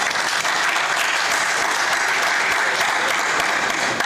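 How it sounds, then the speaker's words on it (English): An audience at an energy summit applauds, sustained dense clapping from many hands, loud and even throughout. "honor them with a round of applause for this."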